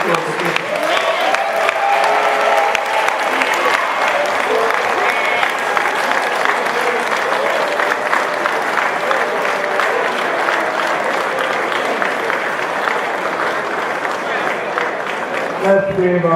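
Sustained applause from a large crowd at an Independence Day oration, steady and dense clapping throughout, with a brief dip near the end.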